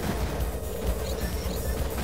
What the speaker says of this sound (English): rockets, stop hitting the ground